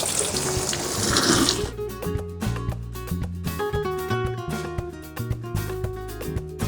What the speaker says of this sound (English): Lastly, a good splash of water